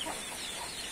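Chickens cluck softly and continuously in a short, steady stretch of farmyard sound, fairly close, with no talking.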